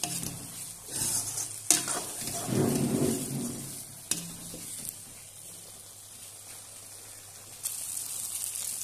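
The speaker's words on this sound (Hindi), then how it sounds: "मसाले हमारे भुन चुके हैं" Spices and tomato for matar nimona roasting in a pan, a close, continuous sizzle with scraping stirs, louder early on and then settling into a softer, steady fry.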